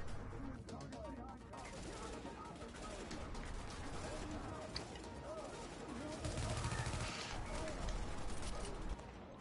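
Machine gun fire from The Division video game rattles continuously through a dense, loud mix of in-game combat noise, with players talking over it.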